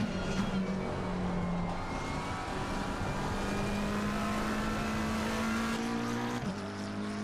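A McLaren race car in the ACC racing game drones through a corner, its steady engine note rising gradually and then dropping sharply near the end, with faint tire squeal and no voices.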